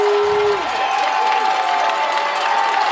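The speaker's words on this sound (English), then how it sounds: "And this Harding crowd up on their feet. They're making noise." A high school football crowd at a Harding home game roars and cheers from the stands in a steady, dense wash of noise, with a whistle-like tone at the start.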